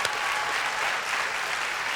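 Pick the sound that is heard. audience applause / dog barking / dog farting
audience applause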